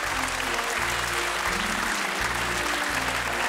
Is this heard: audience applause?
yes